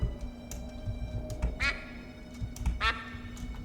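A duck quacking in the Escape from Monkey Island video game, with two distinct, fairly close quacks over a quiet, faintly busy game background.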